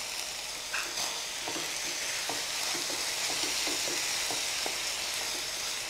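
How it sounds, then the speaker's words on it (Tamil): A lunch box dish frying with tomato sauce, chilli sauce and soy sauce, giving a loud, steady sizzle throughout with light scraping stir strokes scattered over it, close by and with no talking. "போட்டு நல்லா ஃப்ரை பண்ணுங்கள்."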